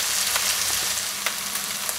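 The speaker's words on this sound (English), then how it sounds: "just brown the onion off for a couple of minutes" Onion browning in a hot pan before garlic goes in for a Tuscan beef stew, a steady close sizzle and crackle with a few sharp pops, no talking.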